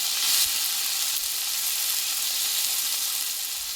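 Ground spice paste made with marigold leaves and a tomato hit a hot pan, giving a steady, close, bright sizzle and frying hiss that holds evenly throughout, with no voices.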